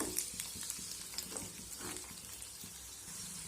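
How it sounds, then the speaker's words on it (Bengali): A vegetable-filled colorful paratha fries over medium heat in a pan, a faint steady sizzle with soft scattered crackles and light scraping as it is turned over. "আমি মিডিয়াম আছে এইভাবে উল্টে পাল্টে ভেজে নেব"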